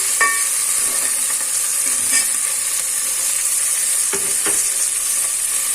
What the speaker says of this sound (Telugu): బీన్స్ ముక్కలు, అది ఫ్రై చేసి కొద్దిగా ఫ్లేమ్ తగ్గించి